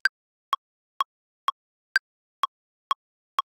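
A drum-machine beat at 126 BPM: eight crisp, evenly spaced clicky hits in a steady pulse, with an accented higher tick on the first and fifth beats, played dry and alone.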